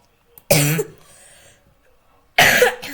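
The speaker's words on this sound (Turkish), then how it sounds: "bu arada arkadaşlar öksürüyorum" Two sharp coughs from a sick person, the first followed by a faint rasp, then a pause before another close, loud cough.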